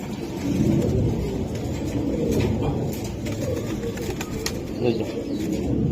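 Young racing pigeons from a club loft coo in a low continuous murmur against a busy, noisy background, fairly close and steady.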